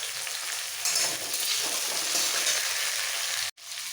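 Chopped tomato hitting hot oil in a frying pan, a loud steady sizzle with stirring throughout, briefly cut off near the end.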